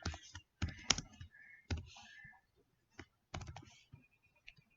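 Quiet, close clicks on a computer keyboard come in short irregular bursts as someone types C++ code, with brief pauses between groups of keystrokes.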